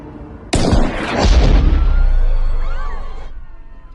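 A single loud gunshot in an action film cracks sharply and rolls into a long, booming, echoing tail that slowly fades.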